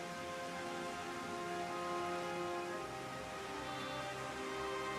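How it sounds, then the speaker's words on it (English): Steady rain falls in a Final Fantasy XIV cutscene. It is a constant, even hiss of falling drops with no voices, and faint tonal game music drifts underneath. "Maybe you should have had his hat on for this rain that just happened to take place in this cutscene"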